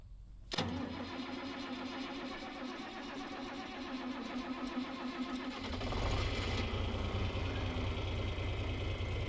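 A farm tractor used for chopping silage cranks and fires up with a sharp start, then settles into a steady idle that rises to a louder, deeper run after several seconds, close by and with no talk.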